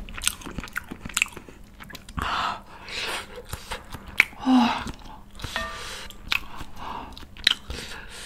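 Spicy buldak chicken soup with glass noodles eaten up close: wet slurps, sips of broth, chewing and small clicks and smacks in an irregular sequence, with no talking.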